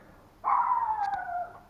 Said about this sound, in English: There's that dog.